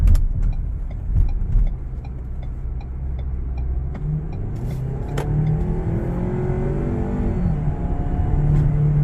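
A 2019 Ford Edge Titanium with 32K miles and a check engine light on accelerates at full throttle, its engine rising from a low rumble to a sustained, climbing roar, loud and close from start to finish.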